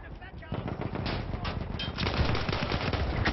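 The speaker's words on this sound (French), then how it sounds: "Chef, ça me tire dessus, je sais pas où c'est!" Rapid machine-gun and rifle fire rattles nonstop in Battlefield 1, a World War I shooter, with dense overlapping bursts that grow heavier partway through and stay loud throughout.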